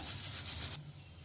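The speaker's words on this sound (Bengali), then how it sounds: "আলুগুলোকে এখন পিস করে নেব এভাবে করে লম্বা লম্বা" A knife slices potatoes into long strips, making a brief close scraping, rasping stroke that runs for under a second and then cuts off, leaving a quiet low hum.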